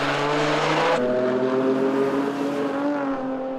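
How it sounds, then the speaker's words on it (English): A Volkswagen Golf race car exits the pit on fresh tires during the Nürburgring 24-hour race, its engine loud and close with a sustained high rev that shifts down a gear after a second, then drones steadily as it pulls away. "The car shoots out of the pit with new tires."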